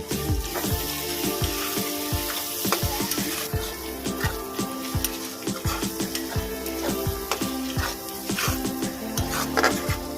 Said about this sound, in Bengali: এবার দেব কুচিয়ে রাখা পেঁয়াজ ভালো করে ভেজে নেবো